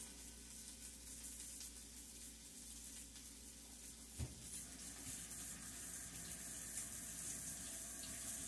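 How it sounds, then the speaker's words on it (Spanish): A kitchen tap runs steadily while hands are washed beneath it, a soft continuous hiss of water with an occasional faint splash, quiet and close. "Voy a lavar las manos."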